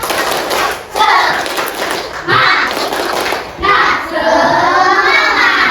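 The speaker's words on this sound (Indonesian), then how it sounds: "Oke, kita tepuk semangat dulu ya" A classroom of children performs a rhythmic 'tepuk semangat' spirit clap, bursts of hand claps and thumps in short phrases alongside young voices chanting, fairly close and loud.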